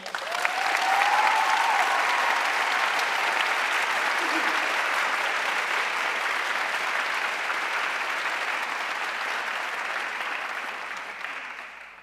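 A large crowd claps in sustained, even applause at the Soka University of America Class of 2022 commencement, a broad wash of hands that holds steady for several seconds and then gradually tapers off near the end.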